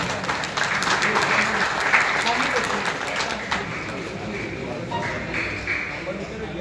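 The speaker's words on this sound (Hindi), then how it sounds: "भरपूर ताली" Audience applause at an ustad turban-tying ceremony, with steady clapping from a crowd that holds for several seconds at moderate volume and carries some background chatter.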